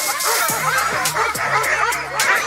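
Sled dogs yip, howl and bark excitedly during harnessing before a dog sledding run, with a rapid overlapping chorus of short calls and whines from several dogs nearby.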